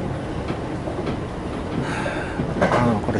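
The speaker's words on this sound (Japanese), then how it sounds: "これ近鉄電車なんですけどね" A Kintetsu electric train runs on the way from Kobe toward Nara, a loud steady rumble with rhythmic rail clatter heard from inside the carriage, swelling slightly toward the end, with no talking.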